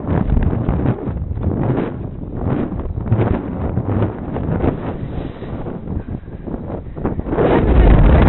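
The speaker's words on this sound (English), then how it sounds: "Why is it so windy today?" Strong wind blasting the microphone outdoors at a gas station on a rainy day, a loud continuous roar with gusting surges that build toward the end, and a voice faintly mixed in.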